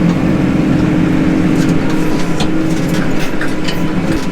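A tractor in four-wheel drive works a field with a cultivator, giving a steady, loud low engine drone with faint rattles over a few seconds and no speech.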